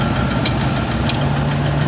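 A car engine idles with a misfire on cylinders 1 and 8, giving a steady close-up rumble with uneven knocking pulses and vibration throughout, and no voices.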